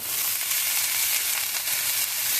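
Sauerkraut sizzling loudly in a hot skillet where pork chops were just browned, a steady close broadband frying hiss lasting throughout with no talk.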